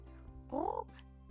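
A streamer imitates a bird with a quick warbling, rising vocal trill lasting under half a second, set over a quiet steady hum of game background sound.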